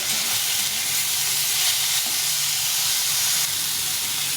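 Big cut tomato added to a hot frying pan with vegetables for a soya bean dish, a loud steady hissing sizzle throughout, close and unbroken, no talk.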